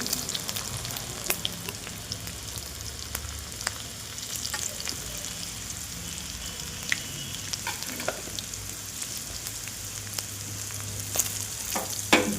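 Crushed garlic and asafoetida frying in a pan make a steady close sizzle, with occasional sharp clicks and spatters scattered through it and no talking.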